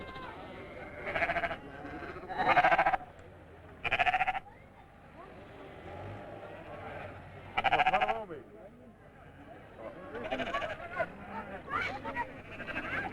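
Sheep bleat in repeated bursts at a 1982 sheep roundup held in a newly opened sorting fold at Reyðarvatn, the calls fairly near and loud, with people talking underneath and in between them.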